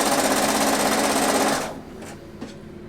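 A sewing machine hemming a sweater overlay runs steadily with a fast, buzzing stitch rhythm, then stops, leaving a faint hum and a couple of small clicks.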